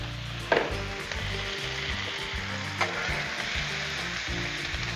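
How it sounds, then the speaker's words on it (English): Shredded cabbage and onions sizzle loudly and steadily on a hot Blackstone flat-top griddle with bacon and sausage nearby, with a couple of sharp clacks from a spatula or food landing on the steel. "Let's throw the cabbage on here. While we at it, throw your onions on too."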